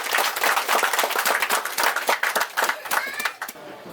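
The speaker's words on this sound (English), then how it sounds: "So we'll clap hand for them." Close, lively hand clapping from a group, quick dense claps sustained for a few seconds with no talking.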